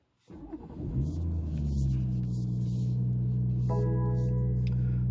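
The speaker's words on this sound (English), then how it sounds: "Right, so let's fire up this car." A BMW M140i engine cranks and fires up, then settles into a steady, deep, close idle rumble, heard alone.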